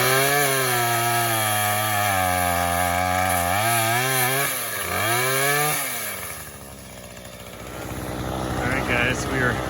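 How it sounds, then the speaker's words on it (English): Chainsaw cutting wood while clearing brush, close and loud, the motor whining and bogging in pitch as it bites, then dropping to a rough idle; people talk nearby. "he's over there with the chainsaw cutting up some stuff"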